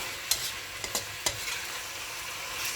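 Vegetables for pancit bihon are stir-fried in a pan, giving a constant sizzle with a few sharp scraping clicks of the utensil being mixed through, and no voices.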